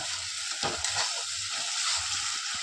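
Chicken giblets and liver sautéing in a pan, with a steady broadband sizzle and a few soft spoon scrapes and stirs, close and fairly loud, no talking.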